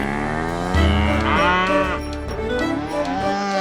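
Cattle mooing, cows and calves together, with several long, loud, close lowing calls that overlap and flow one into the next across the whole stretch.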